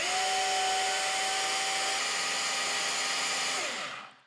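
A cheap cordless 21V GENAI rotary hammer runs in drill mode, giving a steady high whine at full speed before the trigger releases and the motor spins down to silence.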